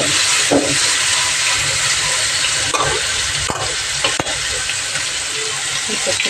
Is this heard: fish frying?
yes